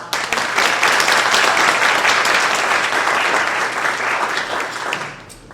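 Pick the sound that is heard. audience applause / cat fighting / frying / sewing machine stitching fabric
audience applause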